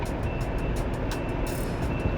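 A semi-truck backs its trailer toward a loading dock, a steady run of reversing beeps pulsing over a loud, continuous diesel engine rumble.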